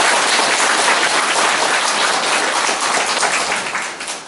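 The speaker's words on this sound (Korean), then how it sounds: "힘찬 박수 한 번만 해주세요." Attendees at a Korean apartment redevelopment association meeting clap vigorously, a loud, close, continuous burst of applause that tapers slightly near the end.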